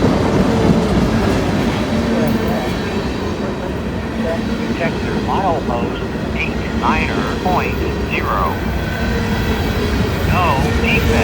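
A Norfolk Southern freight train rushes through an elevated curve, a steady loud rumble of wheels with faint squeals and clicks along the rails, with no pause for the whole stretch.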